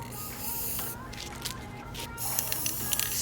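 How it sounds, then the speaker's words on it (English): Steady hiss of chrome Rust-Oleum spray paint being sprayed onto the outside of a Dollar Tree glass vase, with a short pause in the middle and a faint background hum. "So let's continue to spray the outside."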